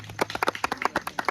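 People clap their hands in a quick, fairly regular rhythm during a comic Navratri sketch, sharp close claps at a steady beat.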